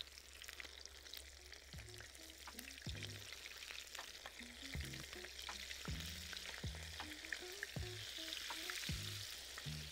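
Shrimp frying in peanut oil at an outdoor cooking setup: a steady, close sizzle and crackle throughout, broken by occasional clinks and knocks of utensils, with no talk.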